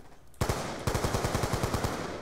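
Rapid automatic gunfire from the video game Black Ops 2 breaks out suddenly after a brief pause, a loud, close burst of evenly spaced shots firing in quick rhythmic succession.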